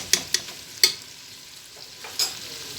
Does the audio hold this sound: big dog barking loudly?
no